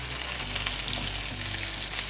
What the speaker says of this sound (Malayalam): ചിക്കൻ നന്നായിട്ട് ഫ്രൈ ആയിട്ടുണ്ട്.